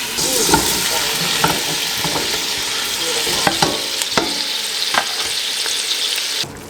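Tomatoes fry in a pan with a steady, loud sizzle while a utensil stirs them, scraping and tapping at irregular intervals before the sizzle drops off abruptly at the end.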